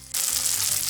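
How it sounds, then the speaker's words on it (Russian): Langoustines sizzle in a pan with garlic over medium heat, a sudden loud bright frying hiss that starts abruptly and holds steady. "Обжариваем ровно 2 минуты на среднем огне."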